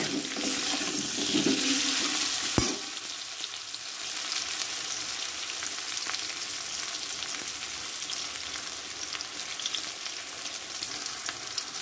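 Potatoes frying in hot oil in a pan, a close, steady sizzle with stirring scrapes, louder at first, then a sharp clack followed by softer continuous crackling.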